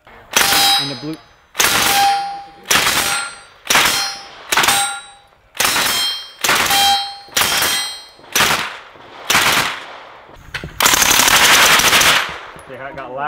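Supersonic rounds fired in a rapid string of loud, sharp reports, about a dozen shots spaced roughly a second apart with ringing metallic tails, ending in a sustained roar of continuous fire.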